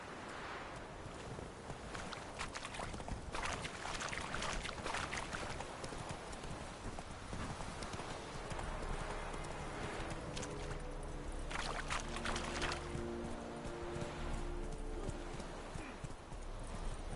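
In a PS5 video game, horse hooves clip-clop at a trot in a steady rhythm, with faint snorting and background ambience, close and continuous, without speech.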